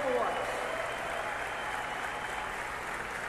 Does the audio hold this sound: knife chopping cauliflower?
no